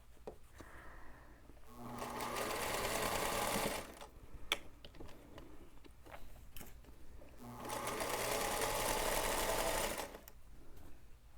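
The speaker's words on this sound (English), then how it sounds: "So it's a start and stop stitching." Sewing machine stitching quilt fabric rows in start-and-stop bursts: two long loud whirring runs of about two seconds each, separated by quieter pauses with small clicks and fabric handling, close up.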